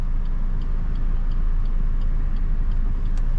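A 2023 Suzuki XL7 Hybrid pulling away in drive, heard from inside as a low steady road and engine hum with faint ticking, no talk.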